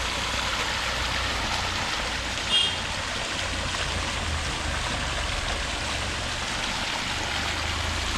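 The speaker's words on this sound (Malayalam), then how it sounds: "ആ കാണലേക്ക് തന്നെ വെള്ളം നല്ലപോലെ നല്ല ഫോഴ്സിൽ തന്നെ ഒഴുകി പോകുന്നുണ്ട്." Water pumped out of an old well being drained flows forcefully into a channel, a steady rushing stream with a faint low engine hum beneath, continuous and even throughout.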